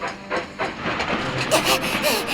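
Animated train pulling away from a platform with bursts of hissing steam and rattling carriages, fairly loud and close, while voices speak over it.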